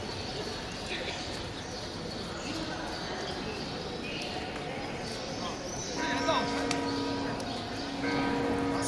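Church bells ring out in the open air in Italy, their steady tones rising over a bustling crowd murmur and footsteps in a busy square.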